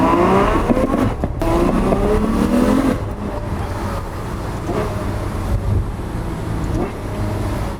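Engine of a V12 grand tourer with no exhaust system fitted, revving loud and raw up front before settling into a steadier drone, with traffic-like background noise and no words spoken.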